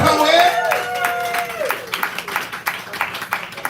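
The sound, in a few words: audience clapping and cheering for a poet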